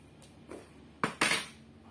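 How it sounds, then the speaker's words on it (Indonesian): Light clinks of a metal spoon against glass, then two louder scraping, pouring clatters close by as sugar is spooned into the glass, with no speech. "kita masukkan gula ke dalam gelas B"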